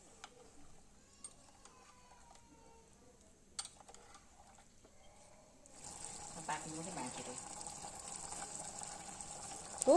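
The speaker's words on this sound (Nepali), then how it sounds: "अब म पानी थोरै लगाउँदैछु" Water is poured into a pan of fried melon-rind curry in a home kitchen. After a few quiet seconds with small clinks, a steady pouring rush starts and runs to the end.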